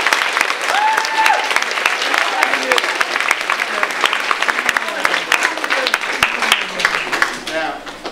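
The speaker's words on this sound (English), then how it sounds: "So give them a round of applause." An audience at a school prize event applauds the attendance team with dense, steady clapping that fills the room for several seconds and fades slightly near the end. A few voices are mixed in.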